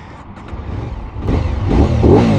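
A 2024 Aprilia RS Extrema 660 motorcycle fitted with an SC Project exhaust starts up close by and revs, the engine swelling louder and rougher over a couple of seconds.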